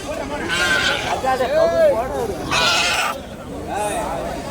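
Young goats bleating at a busy goat market, with several wavering calls close by over a constant murmur of voices from the crowd.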